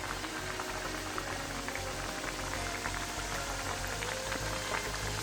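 Thattai, flat crisp rice-flour discs, fry in hot oil with a dense, continuous bubbling sizzle full of tiny crackles, close and even throughout.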